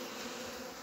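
A steady, close hum from a mass of bees around their hive fills the moment without a break, with nobody speaking.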